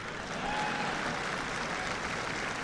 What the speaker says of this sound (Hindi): फिर ताली में दम नहीं है